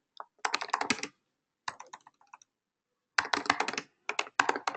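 Code being typed on a computer keyboard, rapid clusters of crisp close key clicks separated by short pauses, with no talking.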